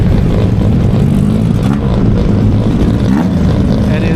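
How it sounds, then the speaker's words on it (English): Old Datsun and Nissan race cars run against each other at a track, a loud continuous engine roar with revving rising and falling close by, no voices over it. "It's super cool to see all these old cars running against each other."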